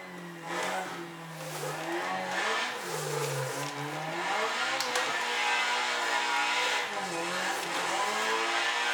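A car driving and drifting in the Assetto Corsa racing game, its engine droning and rising and falling in pitch with revs, along with hints of tire squeal, over a continuous, fairly loud stretch.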